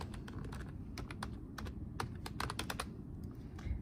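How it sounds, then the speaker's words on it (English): Email address typed on a computer keyboard, with a quick run of soft, close key clicks in uneven bursts over a low background hum. "I will just type in my email"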